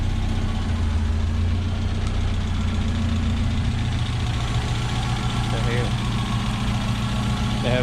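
A rebuilt engine in an old Mazda Miata idles steadily, a low even hum with no stumbles or misses, while a person talks over it.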